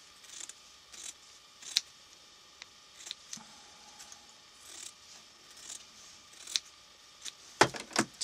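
Scissors snip sewing thread in a quiet room, with a series of small, sharp clicks and cuts spaced irregularly, close and faint, ending in a few quicker snips.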